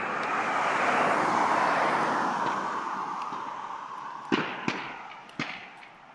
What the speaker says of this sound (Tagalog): naririnig yung mga putukan. Ano po? Naghahunting po sila.